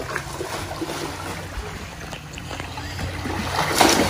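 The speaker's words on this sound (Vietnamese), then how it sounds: "Trời ơi, con đã bơi kìa." Child swimming and splashing in a home pool, soft continuous water sloshing and small splashes with a brighter splash near the end, no talk.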